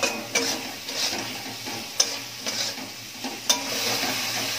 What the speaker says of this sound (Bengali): এবার ভালো করে মশলাটাকে একটু কষিয়ে নিচ্ছি